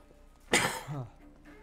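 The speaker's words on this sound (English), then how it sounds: "Sorry, this cough ain't going away." A single short, harsh cough bursts out close to the microphone, followed by a brief throat-clearing rasp, in a quiet room during a PC gaming session.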